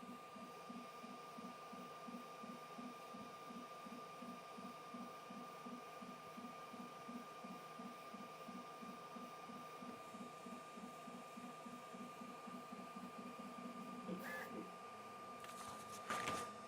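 A Sovol SV08 3D printer runs through a print, its stepper motors pulsing in a quick, steady mechanical rhythm under a constant fan whir, with a couple of brief sharper clicks near the end.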